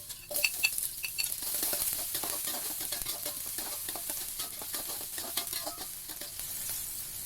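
Garlic and shallots sizzle in hot oil in a pan for a Padang-style stir-fry of green beans and tempeh, with steady frying hiss and scattered stirring clinks and scrapes, close and moderately loud, no talking.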